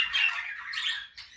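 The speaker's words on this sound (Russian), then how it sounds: "Продолжаем наблюдать за волнистыми попугаями" Budgerigars in an aviary, where young chicks have just fledged from the nest, keep up a dense, continuous high-pitched squawking and chattering chorus close by, with no voices over it.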